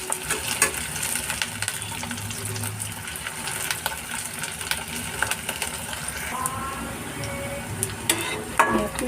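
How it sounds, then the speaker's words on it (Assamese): Cauliflower and mixed vegetables sizzle in hot oil in a pan while being stirred, with scraping and clinking of the utensil against the pan over a steady, moderately quiet frying hiss. "জাষ্ট অলপ ভাজি ল'ম।"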